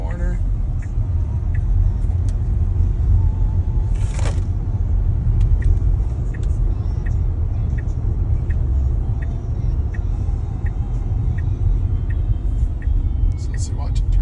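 Tesla car driving on Full Self Driving, a steady low road rumble and engine-like hum from inside the cabin, with a person talking over it and a few soft ticks.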